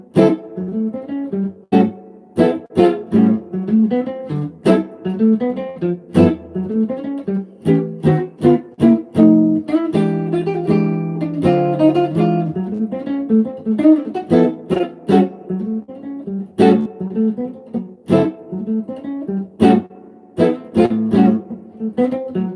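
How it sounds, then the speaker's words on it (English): Solo guitar playing a blues in A with block chords, strummed chord hits and short single-note phrases in a loose rhythm, played alone without talk. "Basically a blues using block chords."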